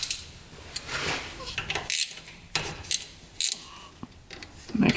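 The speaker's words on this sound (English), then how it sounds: "So to get that out, it looks like we can take these 2 bolts off here." Scattered metallic clicks and clinks come from tools loosening the two bolts that hold a fuel injector on a UTV. The taps are close and irregular, separated by short pauses, with some faint handling noise.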